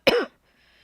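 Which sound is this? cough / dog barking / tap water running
cough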